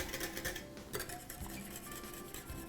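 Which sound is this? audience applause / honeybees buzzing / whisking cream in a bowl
whisking cream in a bowl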